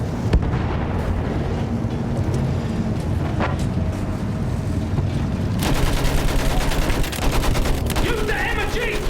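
Machine gun fire sweeping the ground during a battle near an overrun church, rapid bursts rattling loud and steady amid other gunfire and rumbling vehicle noise, with voices in the background.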